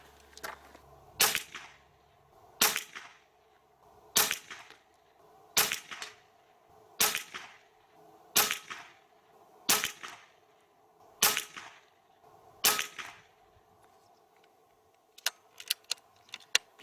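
Hatsan AT44 Long PCP air rifle in 4.5 mm firing a string of sharp, loud shots at steady intervals of roughly one and a half seconds, about ten in all, with a few quicker clicks near the end.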